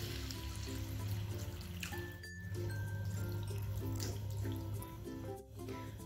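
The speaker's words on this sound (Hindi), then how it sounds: "इसके अंदर हम थोड़ा पानी डालेंगे।" Water poured from a vessel into a pan of boiled-potato curry, a steady continuous splashing flow lasting several seconds, close and fairly loud, with no talking.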